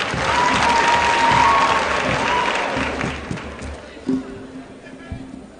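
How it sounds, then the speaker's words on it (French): A crowd applauds before a slam poetry performance, loud clapping that swells early and then thins out, with scattered voices and a few separate claps as it fades. "on s'applique et on applaudit avant que ça commence"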